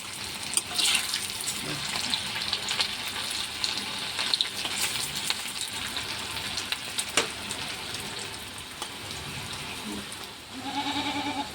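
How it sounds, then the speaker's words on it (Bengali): Lentil fritters (bora) frying in hot oil, a steady close crackling sizzle running throughout with occasional clinks and a brief watery rush near the end. "এখন এক এক সাইড ভাজা হয়ে গেছে আরেক সাইড উল্টিয়ে দিচ্ছি লাল হয়ে গেছে"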